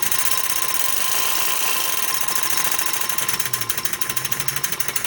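A paint spray gun's agitator cup running up close, a steady, dense buzzing drone that becomes a rapid rhythmic chatter toward the end, loud and continuous with no voices.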